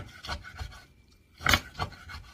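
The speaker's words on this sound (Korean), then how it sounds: "자, 이렇게 칼질을" A knife chops boiled dried radish greens (siraegi) on a cutting board for soup, a few close, uneven thuds and scrapes with short pauses between strokes.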